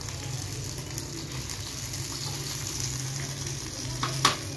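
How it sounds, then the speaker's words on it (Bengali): Fish sizzles and spits steadily in hot oil in a pan, a continuous close crackle with a brief louder clatter near the end. "এখন ও মাছ ভাজি করবে।"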